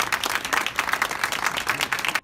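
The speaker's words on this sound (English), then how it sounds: "Cheers and applause inside JFK Airport as a detained traveler reunites with a loved one." Cheering and applause from a crowd inside JFK Airport as a detained traveler reunites with a loved one, a dense, steady wash of clapping and shouts that cuts off sharply at the end.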